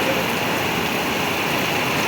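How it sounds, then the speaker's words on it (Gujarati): Very heavy rain pours down in a village during a windy storm, a steady, loud wash of falling water that fills the whole stretch without a break. "એટલો અતિ ભારે વરસાદ પડી રહ્યો છે."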